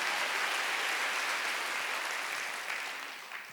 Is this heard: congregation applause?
yes